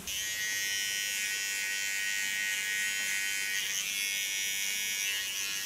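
A small electric hair clipper cleans up the contour line along a shaved side and nape, giving a steady, close, continuous high buzz with no pauses and no talk.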